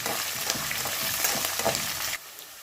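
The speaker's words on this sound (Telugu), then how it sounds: "ఆనియన్, పచ్చిమిర్చి, బాగా వేయించాలండి. బాగా ఎర్రగా వేసుకోవాలి." Onion and green chillies frying in oil until reddish for vegetable semiya upma, a close, even hiss of sizzling with light stirring taps, cutting off abruptly to quiet near the end, no talk.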